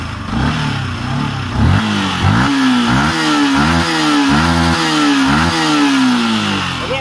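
A Yamaha R15 motorcycle engine with a faulty regulator-rectifier is revved gently and repeatedly in the open, each rise and fall in pitch close and steady over a continuous idle.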